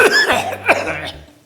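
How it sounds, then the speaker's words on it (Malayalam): A man gives a rough, wet cough of three or four hacking bursts in quick succession, close and loud, trailing off into a throaty rasp. "അമ്പോ ഇതാണ് വില്ലൻ ചുമ കേട്ടാ."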